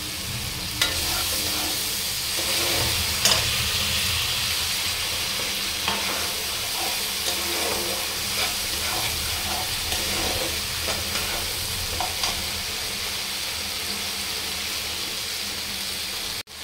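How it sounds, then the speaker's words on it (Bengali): Spices fry in a pan as a splash of water goes in, giving a steady, close sizzling hiss with bursts of steam and occasional stirring scrapes, with no voices. "হালকা করে একটু জল দিয়ে দিলাম।"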